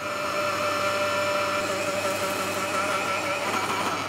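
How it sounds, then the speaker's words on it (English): A blender whirring steadily as it purées a soup base of soft cooked potatoes for watercress soup, a close, constant motor drone with a slight rise in pitch, running alone without talk. "So once the potatoes are soft, into the blender. So blend the base of the soup first"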